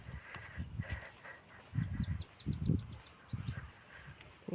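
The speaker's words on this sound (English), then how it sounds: "birds are singing" Faint birds chirp and whistle in rapid trills in the distance, over low rumbling background noise outdoors.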